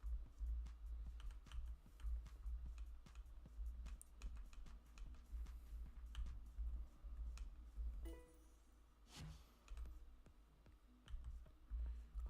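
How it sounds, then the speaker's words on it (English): Fast, light clicking of keys on a laptop keyboard while a game is played, quiet and close, in uneven bursts with brief pauses. "I'm gonna have to use my laptop keyboard to play this"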